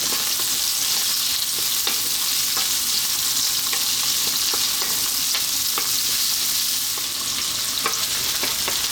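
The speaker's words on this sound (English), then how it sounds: "I'm going to cook that for about 2 to 3 minutes on a high heat." Chopped onion and ginger frying on high heat in a pan for a vegan garlic ginger cabbage dish, a steady loud sizzle with occasional sharp crackles and spits throughout, no talking.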